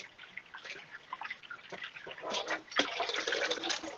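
Hot cooked udon noodles being swished and rinsed in water, soft splashing and trickling that swells into busier sloshing toward the end.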